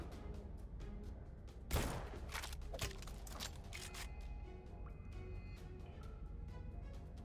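Shotgun fire in the first-person shooter Gunfire Reborn, one strong blast followed by a few quieter shots over a steady game-music background, fairly faint overall.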